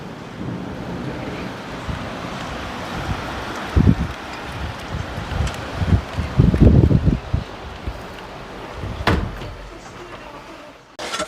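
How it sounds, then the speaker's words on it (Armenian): Wind and rain outdoors on a plot of farmland, a steady rushing blow with gusty swells and buffeting against the microphone, broken by a few rustling thumps. "համ քամի, համ անձրև"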